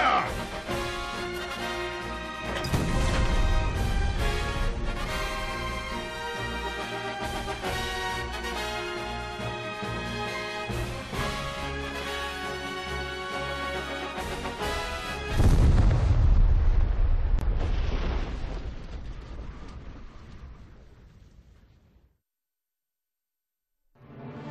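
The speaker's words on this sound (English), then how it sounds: "A peal of cannon fire washes over the sandy wastes" Cannon fire in the Nintendo Switch game Triangle Strategy, heavy booms over a dense orchestral score, with a big impact near the end before the sound fades to silence.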